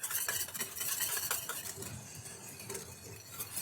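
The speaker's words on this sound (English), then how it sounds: "I want to make sure that I'm whisking that sufficiently." A whisk beats chicken velouté sauce in a pan, making steady, rapid scraping and swishing strokes against the metal, close and fairly soft, with no talking.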